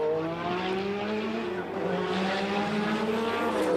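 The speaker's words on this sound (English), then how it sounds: "Henry P gets 800 brake horsepower of Nissan turbo power down onto the tarmac" An 800 brake horsepower Nissan turbo Group C race car accelerates at Donington in 2007, its engine note climbing steadily in pitch with a loud, continuous roar that holds close throughout.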